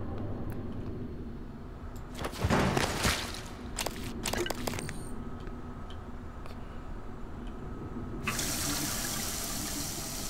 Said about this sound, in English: Drink water.